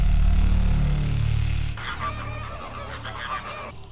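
Loud honking flamingo calls open the clip, then give way to a busier chorus of higher, overlapping squawks from a flock nearby.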